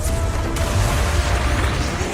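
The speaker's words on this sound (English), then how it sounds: "Explosions." Explosions in the video game Zenless Zone Zero, a dense, loud rumbling roar with deep booming low end and a brief sharp crack near the start, sustained throughout without speech.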